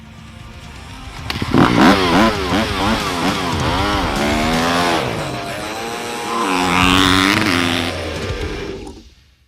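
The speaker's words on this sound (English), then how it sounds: "Ronnie, go ride your dirt bike, bud." A dirt bike engine revs hard and climbs through the gears with a buzzing, rising pitch. It is loud and close at first, then fades as the bike pulls away and cuts off at the end.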